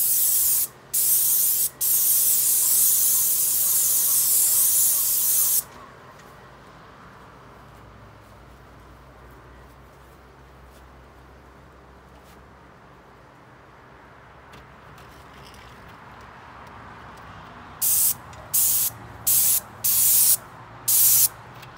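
An airless paint sprayer hisses loudly in bursts as paint goes onto a house soffit: a long burst, then quiet stretches with faint background noise, then several short sprays near the end.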